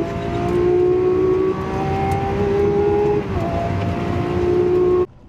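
A Porsche pulls hard in a drag race against a Lamborghini Aventador SVJ, its loud engine note climbing steadily through gears with brief dips at shifts, then cutting off abruptly at the end.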